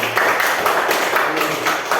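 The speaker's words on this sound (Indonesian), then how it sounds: "Tepuk tangan." A room of third-grade children clap their hands together in a classroom, a dense, steady patter of many palms lasting throughout, fairly loud and close.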